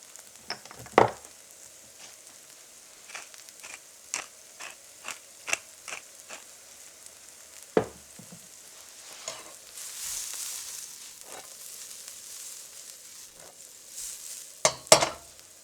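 Eggs sizzle in a frying pan for a pizza-style breakfast omelette, with scattered sharp clicks and scrapes of a utensil against the pan over a steady, quiet frying hiss.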